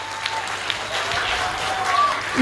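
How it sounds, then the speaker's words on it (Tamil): Audience applause for student folk dancers from Vels at a Tamil book festival in Bangalore, a steady wash of clapping through the whole stretch with some cheering and crowd noise. "வேல்ஸ் பண்ணி மாணவர்களுக்கு கையொலி எழுப்பி ஆரவாரம் செய்து அவர்களை பாராட்டுவோம்"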